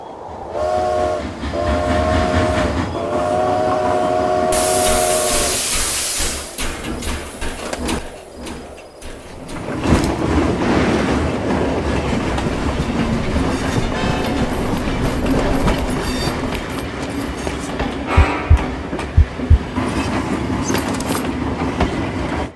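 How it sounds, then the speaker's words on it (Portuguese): A moving train rolls past heading from the station toward Serra Talhada, a loud rumbling passage with a horn blast early on, shifting rail noise and scattered clanks as the wagons go by, no voices over it. "o trem em movimento que vinha da estação em direção à Serra Talhada"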